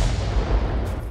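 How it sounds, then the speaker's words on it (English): Heavy artillery shells fired in a tank combat video game, a dense rumbling roll of booming blasts that fills the short clip, loud and unbroken. "I can hear shells being fired in this general direction"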